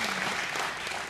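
Audience applause at a 2015 Memphis mayoral debate, a dense steady wash of many hands clapping at close range, with no pauses and no voices over it.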